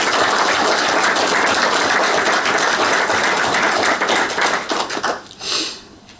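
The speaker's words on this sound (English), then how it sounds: "a wonderful round of applause for our widows" A hall full of Supreme Council delegates in Edinburgh claps loudly for the widows, a dense, steady round of applause that thins out and stops near the end, leaving a faint hush.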